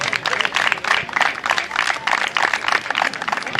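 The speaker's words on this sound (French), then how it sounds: "On peut les applaudir bien fort une fois de plus" Audience applause for the referees at a U13 youth football tournament awards ceremony, a dense, steady burst of many hands clapping together for several seconds, fairly loud and continuous with no talk over it.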